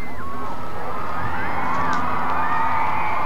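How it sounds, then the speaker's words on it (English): A crowd of children, many dressed in red, cheers and shouts outdoors in front of a drugstore during the Gorbachevs' 1990 Minnesota visit, a continuous excited roar with rising whistle-like yells throughout. "And listen to that crowd."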